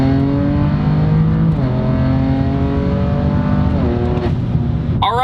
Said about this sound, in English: there's so many different sounds this car makes. There's the intake, where you barely get in it, then there's the turbos, and exhaust, and the pops